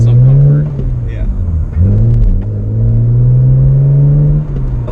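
A stock BMW 128i runs with a loud, close engine drone that dips and swells as the revs shift, carrying low burbles from the exhaust, while people talk over it.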